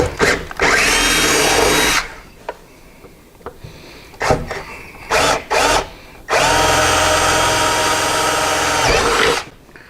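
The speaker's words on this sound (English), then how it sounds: "I'm going to switch over to a 5/16 bit. All right, go ahead and drill those." A power drill with a 5/16 bit bores holes in a trunk pack for speaker pods, whining loud and close in bursts: a short run, a long one, several quick pulses, then a final long run.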